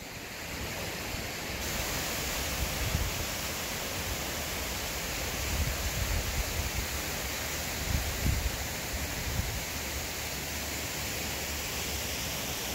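Falling Springs Waterfall, a 45 ft drop, heard from the top: a constant broadband roar of rushing water filling the whole stretch, steady and close with no speech.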